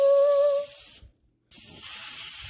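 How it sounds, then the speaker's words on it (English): Pam baking spray hisses from its can into a loaf pan in a home kitchen: a brief whistling tone, a moment of silence, then a steady, close, breathy spray hiss that lasts to the end. "So I have this Pam baking spray, and we're just gonna spray it"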